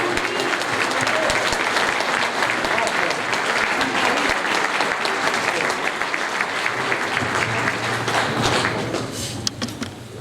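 A hall audience at an evening of poetry and music gives a performer a dense, sustained round of applause that thins slightly toward the end, with no speech on top.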